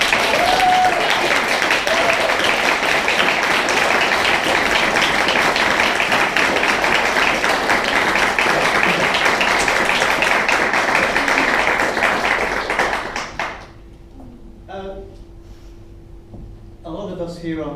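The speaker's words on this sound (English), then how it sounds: "Round of applause." At an art and resistance event in Brighton, a crowd gives a loud, full round of applause that holds steady for about thirteen seconds, then dies away into a quiet room where a voice briefly speaks.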